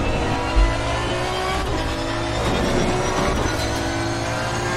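Aston Martin race car in Assetto Corsa Competizione at the Nürburgring, a loud, continuous engine roar rising and falling with revs and gear changes, close and steady throughout with no talk.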